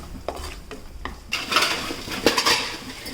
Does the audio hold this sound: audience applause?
no